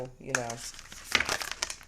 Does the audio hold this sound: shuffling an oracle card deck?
yes